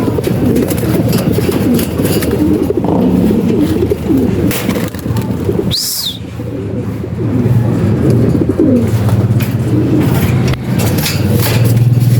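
Pigeons, including young birds, let out of a loft during routine care, cooing and calling near the listener almost without pause, with a brief dip in the middle and wing and wood knocks mixed in.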